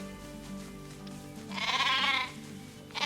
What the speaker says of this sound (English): There's baby sheep.